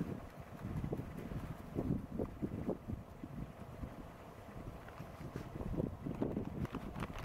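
A breeze blows outdoors, buffeting the microphone in low gusty rushes that rise and fall continuously and fairly quietly, with no talking.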